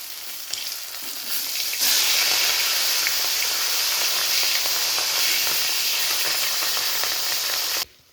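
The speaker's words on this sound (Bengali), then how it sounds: "মাছগুলো দেওয়া হয়ে গেছে, এবার ভেজে নেব।" Pieces of fish sizzle steadily in hot oil in a kadai for a pointed gourd and fish curry, a loud, dense frying hiss that swells after the first seconds and holds evenly before cutting off at the end.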